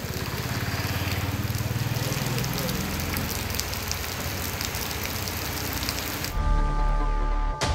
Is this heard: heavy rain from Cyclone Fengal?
yes